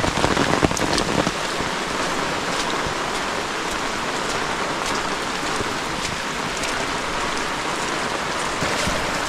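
Heavy rain pours steadily on surfaces in a Konkan village, a dense, loud, unbroken hiss of falling water with no pauses, close and enveloping throughout.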